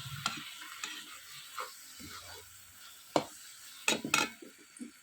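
Melted jaggery mixed with grated coconut being stirred in a pan, soft intermittent scraping strokes and a few sharper spoon knocks against the metal, close and fairly quiet with no talking.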